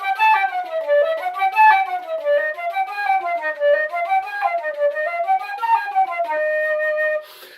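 A flute plays the first Taffanel-Gaubert exercise: smooth, slurred stepwise runs rising and falling in a steady pattern, clear and close with no talk, ending on a sustained held note.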